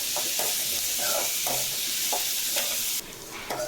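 Onions with cinnamon and dried chili sauté in a hot pan, a dense close sizzle with rhythmic scraping strokes of a spatula, the hiss briefly softening near the end.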